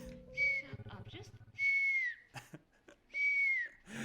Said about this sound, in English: she has a cool whistling talent now